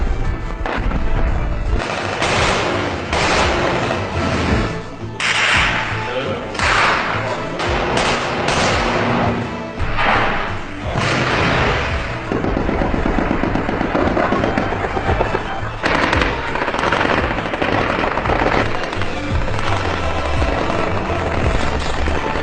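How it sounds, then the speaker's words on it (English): Gunfire and explosions in real wartime combat footage, loud dense bursts of shots and booming blasts repeating throughout, with a rumbling roar underneath and no talk. "Is the Egyptian army shooting rockets, RPG, missiles, tanks?"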